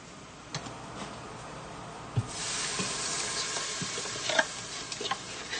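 Spices, tomatoes, tomato paste and kidney beans are stirred in a pot for vegan chili in a quick cooker, giving a soft scraping and gentle sizzle that swells after a couple of seconds, with occasional light clicks of utensil against pot.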